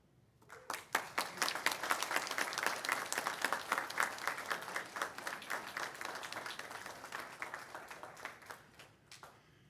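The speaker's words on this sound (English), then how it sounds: "express thanks for the support you received over the years by acclamation, applause, cheers, or however you like" Graduation ceremony audience bursting into sustained applause with scattered cheers, a dense wash of many hands clapping that swells quickly, holds for several seconds, then thins into a few last claps.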